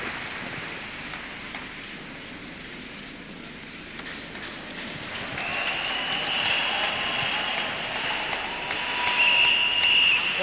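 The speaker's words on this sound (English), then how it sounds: "Give Jesus a round of applause" A church congregation breaks into sustained applause that swells louder partway through, a broad dense patter with a faint tonal whine riding on top.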